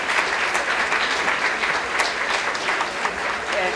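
Sustained applause from an audience at a CRESS 50th anniversary event honoring a longtime staff member, dense clapping steady throughout with faint voices mixed in.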